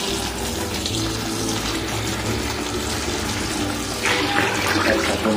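Soapy water runs and splashes steadily as a bleached tie-dye T-shirt is rinsed, a continuous close wash of water that grows a little louder near the end.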